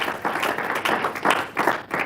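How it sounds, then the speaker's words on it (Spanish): A burst of brisk clapping from a church congregation, dense and steady throughout the short stretch. "Dele fuerte el aplauso a Jesús"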